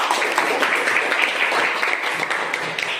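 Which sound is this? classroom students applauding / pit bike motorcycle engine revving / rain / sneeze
classroom students applauding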